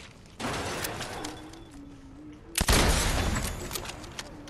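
Gunshots in a video game: a sharp blast near the start and a louder burst midway, with sustained noisy rumble between and after, over a faint tonal hum.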